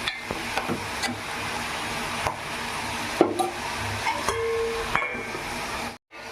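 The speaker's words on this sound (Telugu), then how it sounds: "ఇదండి ఎప్పటికప్పుడు మనం తిప్పుకుంటూ చూసుకుంటూ ఉండాలి, లేకపోతే అడుగంటుతాయి" Ivy gourd pieces fry in oil in a pan while a spoon turns them now and then, a low continuous sizzle broken by sharp scraping knocks of the stirring, close by.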